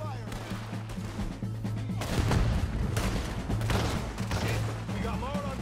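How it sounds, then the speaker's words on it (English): Video game firefight with dense gunfire, sharp shots and bursts crackling over a low engine-like drone, thickening into a heavy volley midway and staying busy, with voices calling out beneath the shooting. "Open fire!"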